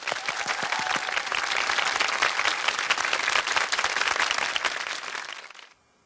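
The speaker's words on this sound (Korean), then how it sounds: "박수!" Dense, energetic applause from many hands, a bright continuous clatter of claps holding steady for several seconds before stopping abruptly into silence.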